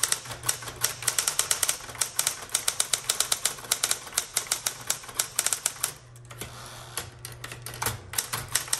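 A repainted 1960s Smith-Corona Electra 120 electric typewriter types in rapid bursts of sharp key strikes over the steady hum of its motor, close and clear, with a brief pause partway through before the typing resumes.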